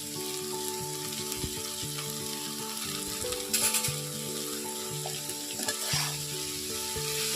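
Chopped fenugreek leaves and potato fry in a pan with a constant, close sizzling hiss and a few bursts of stirring. Steady background music plays underneath.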